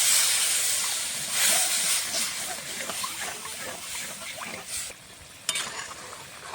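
Steady sizzling and hissing rise from a kadai as a little water is added to frying shrimp masala, with faint stirring scrapes and a brief clack near the end, no voices.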